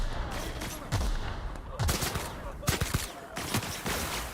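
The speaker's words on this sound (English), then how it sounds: "Oh, I'm shooting these guys." Gunfire bursts from a firefight in The Outer Worlds, with several clusters of shots and scattered single reports over a steady game soundscape, fairly loud throughout.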